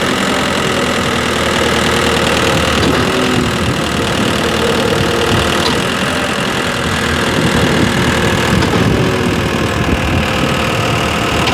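Concrete pump engine running steadily at a ballpark construction site, a loud continuous mechanical drone with a low rumbling knock that holds without a break.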